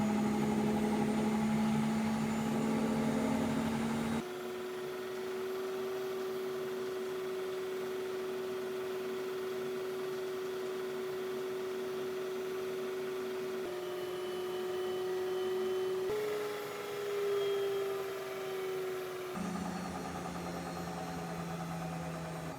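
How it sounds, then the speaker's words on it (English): A GE washing machine drain pump runs with a rattling, grinding hum, a steady motor tone that shifts pitch several times with abrupt changes, heard close and fairly quiet. "I can hear the pump, it's rattling."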